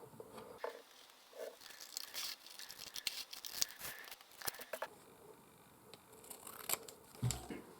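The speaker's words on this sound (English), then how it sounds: "print them out on the label paper and then you want to cut them out" Scissors snipping printed labels out of sheets of label paper, a run of close, crisp cuts and paper rustles with short pauses between strokes, no voices.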